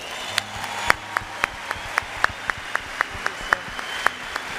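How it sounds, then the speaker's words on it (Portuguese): Sparse applause from an audience at a church speaking event, scattered individual claps in a slow irregular patter, fairly faint and distant, lasting a few seconds. "o pastor Aloysio, uma salva de palmas para esse homem"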